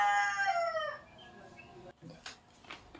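A pet rooster crows once, a loud drawn-out cock-a-doodle-doo that fades after about a second, followed by quieter rustling and faint clucking nearby.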